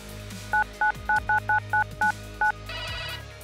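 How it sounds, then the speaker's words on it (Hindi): A telephone is dialed: nine short, evenly spaced keypad tones beep in quick succession, followed by a brief buzzing tone as the call connects, with a low background hum. "न्यूज एक्सप्रेस के 3 अंडरकवर रिपोर्टर्स ने MMR के डायरेक्टर संजय पांडे को फोन किया"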